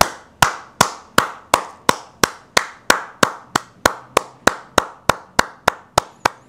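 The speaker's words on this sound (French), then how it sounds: "Une minute d'applaudissements pour tout le monde, s'il vous plaît" Rhythmic, evenly spaced hand claps, about three per second, sharp and crisp with short decays, repeated steadily in a group call for a minute of applause during a football debrief after Benfica vs Barça.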